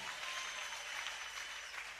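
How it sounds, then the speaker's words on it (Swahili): A church congregation claps together in steady, dense applause that holds for about two seconds without a break, with no voice rising above it. "Pigie Bwana makofi kama ukipenda."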